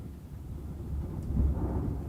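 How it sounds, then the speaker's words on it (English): Thunder rolls as a low, steady rumble that swells slightly toward the end, heard alone and moderately loud during a storm. "That's a lot of thunder."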